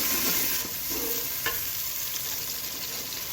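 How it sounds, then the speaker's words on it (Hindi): Onions frying in oil over a high flame for a gravy, a steady broadband sizzle with occasional stirring scrapes and a brief clink, close and continuous with no talking. "अब इसको हम ब्राउन होने तक पकाएंगे, अच्छे तरीके से फ्राई करेंगे हाई फ्लेम पे इस तरह।"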